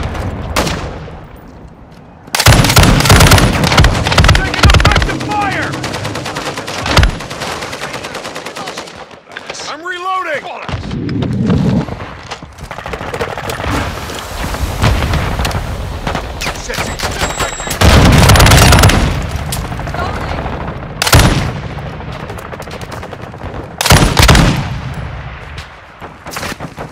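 Gunfire in the Call of Duty: Modern Warfare II video game, with loud bursts and single shots in clusters alongside sustained automatic fire and heavy booms, close and intense throughout.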